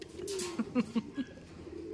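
Racing pigeons at a loft giving a few soft, low coos in quick succession, close by, over faint ambient noise and a brief rustle.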